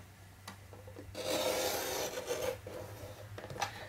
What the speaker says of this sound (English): I'm going to take my paper trimmer and I'm going to cut out about a 3/4 inch section